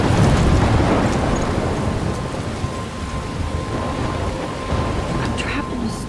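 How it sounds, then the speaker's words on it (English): Steady heavy rain hisses over low rumbling thunder in a storm near a lighthouse in the video game Life is Strange, with a faint tonal hum running through and no talking. "I'm trapped in a storm?"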